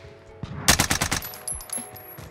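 Gunfire in Call of Duty: Warzone on Rebirth Island, a quick close burst of about six rapid automatic shots followed by scattered fainter shots and a thin high whine, with no talking.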